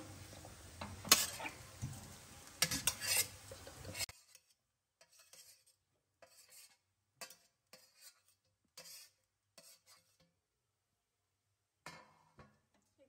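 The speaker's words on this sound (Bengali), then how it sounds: "এগুলো সব একসাথে মেশাতে থাকবো" Coriander powder, cumin powder and fried ingredients being stirred together in a pan, a busy scraping and clinking burst at first, then sparse soft utensil scrapes and taps with quiet gaps between.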